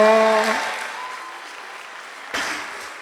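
An audience breaks into applause for comedian Ulrich Takam at a live stand-up show, a broad clapping wash that fades slightly, then surges again near the end, with a voice briefly heard at the start.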